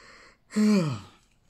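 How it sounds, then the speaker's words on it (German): A single drawn-out yawn, close and fairly loud, rising then sliding down in pitch over about a second, with quiet room noise before and after and no talk. "Jetzt will ich kurz gähnen."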